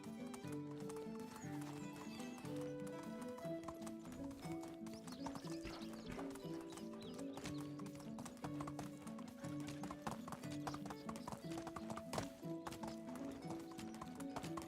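Horse hooves clip-clopping in the medieval game Medieval Dynasty, a steady, rhythmic trot with a whinny, under quiet background music.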